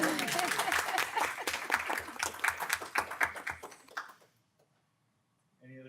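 A room at a school board meeting breaks into steady applause that lasts about four seconds, then fades into quiet before faint movement returns.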